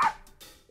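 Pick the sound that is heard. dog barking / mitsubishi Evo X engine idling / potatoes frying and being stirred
dog barking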